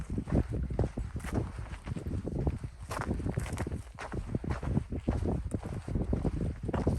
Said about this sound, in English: A little breezy this morning.